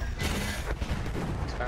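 An enemy dreadnought fires its turret guns in a video game, heavy booming shots thudding repeatedly amid a dense, loud mix of battle noise and overlapping voices.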